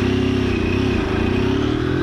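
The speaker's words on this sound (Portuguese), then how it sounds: "mandou marcha no vermelho" Motorcycle engine during a night delivery ride in Vila Menck, Osasco, revving hard at high revs and shifting gear, a steady loud drone with rising harmonics and a brief dip at the shift.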